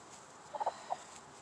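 Asian black and barred rock hens give a few soft, quick clucks in a short cluster followed by one more, faint against a quiet background.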